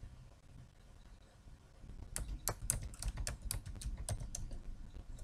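Typing on a computer keyboard, a quick run of crisp, close key clicks starting partway through over a low room hum, with no speech.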